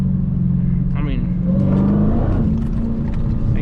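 A manual Dodge Challenger Hellcat's engine rumbles steadily while driving, its pitch rising and falling through throttle changes, with someone talking over it throughout.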